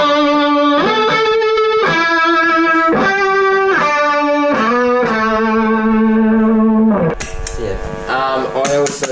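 Loud electric guitar chords through an Electro-Harmonix Small Clone chorus pedal with a shimmering, wavering modulated tone, strummed in sustained phrases, ending with brighter, busier notes.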